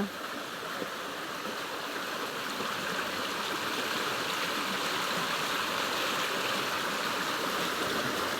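Steady rushing of a mountain stream flowing over rocks, close and continuous, with no voices.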